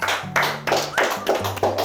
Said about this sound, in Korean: 박수 쳐줘, 박수 쳐줘.